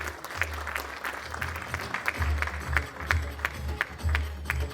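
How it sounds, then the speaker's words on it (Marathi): Audience at a kirtan competition event applauding a performer, a steady wash of many hands clapping in a hall, moderate and continuous with a low hum beneath. "एकदा जोरदार टाळ्या त्यांच्यासाठी वाजवूयात मंडळी"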